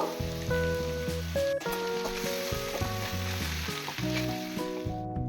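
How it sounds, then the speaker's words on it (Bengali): Prawns fry in a pan with a continuous bright sizzle, largely masked by loud melodic music playing over it. "চিংড়ি মাছগুলো দু থেকে তিন মিনিট ভেজে নেব"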